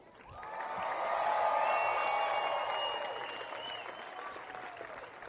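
A crowd at a University of Texas softball event applauds and cheers, the clapping swelling to a full roar within a second and then slowly fading away.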